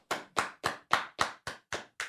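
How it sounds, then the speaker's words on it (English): A single person claps eight times in a slow, even rhythm, each clap crisp and close with a short decay, with nothing else underneath. "Round of applause for white hands."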